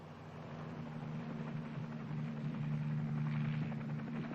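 Military helicopter engine and rotor hum with a low steady tonal drone under broadband wash, fairly faint and distant, gradually growing a little louder as it powers up for takeoff, without speech.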